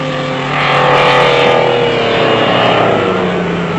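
Off-road race cars, including a Golf-powered Mighty Mag, compete in the Roof of Africa rally; a loud, steady engine roar swells and holds as the cars drive near, with no talk.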